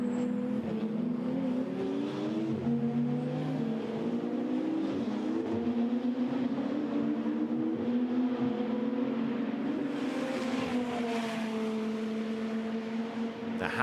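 GT2 race cars, a Porsche among them, roar around Spa, engines droning and shifting in overlapping tones at a distance, with a louder surge of revs near the end.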